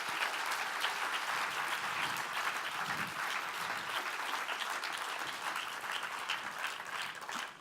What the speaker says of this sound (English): Could we give them another round of applause for their activities?